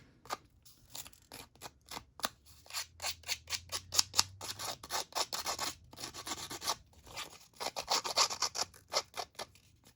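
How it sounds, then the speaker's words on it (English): Edges of paper photo ephemera are scuffed with quick, repeated scraping strokes, close and rhythmic, with short gaps between bursts and no talking. "We're going to go ahead and scuff up the edges of this one."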